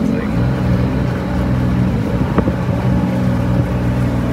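A Sea-Doo Speedster 4-tec jet boat engine runs steadily at mid revs and stumbles at certain RPMs, loud and continuous under wind noise.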